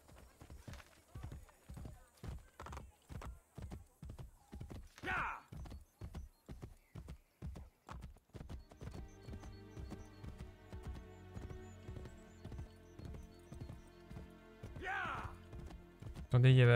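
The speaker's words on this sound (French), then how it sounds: "Je monte à cheval." Rhythmic hoofbeats of a horse in Assassin's Creed Brotherhood, speeding from a trot into a steady gallop, with a couple of whinnies and a person talking over it.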